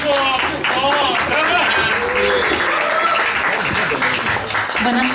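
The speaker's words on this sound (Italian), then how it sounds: "Un applauso!" A theatre audience at an evening show applauds loudly and continuously, dense clapping mixed with cheers and voices throughout.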